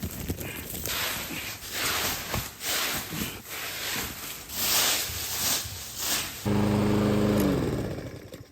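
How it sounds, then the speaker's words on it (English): A lawn mower's small engine runs with a fluctuating, pulsing roar, close by and loud, shifting to a steadier, deeper idle near the end. "now I'm done with the lawn mower"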